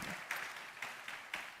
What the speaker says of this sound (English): big round of applause to that.